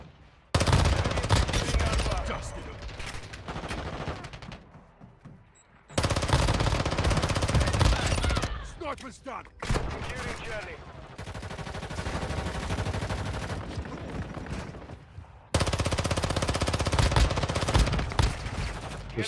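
Heavy automatic gunfire in the video game Arena Breakout, several long, loud sustained bursts separated by short silent gaps and quieter stretches, with faint rustling movement between volleys.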